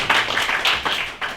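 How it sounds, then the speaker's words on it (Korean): Book talk show audience gives an enthusiastic round of clapping for a guest host, a brief, fairly loud burst of many hands pulsing in a few uneven swells. "큰 박수 좀 보내주세요."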